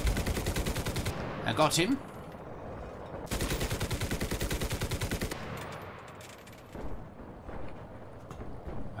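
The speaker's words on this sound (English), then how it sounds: "Maybe we can reload our machine gun." Rapid machine gun bursts in the World War II shooter Enlisted, two long loud rattling strings of shots with scattered single gunshots after, and someone speaking briefly between them.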